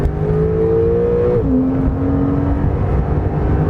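A 2018 Porsche 911 Carrera T pulls hard on a track in a loud, close, steady engine drone, its pitch climbing and then dropping at a gear change before rising again, with no voices.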